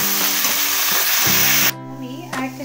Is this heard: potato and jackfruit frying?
yes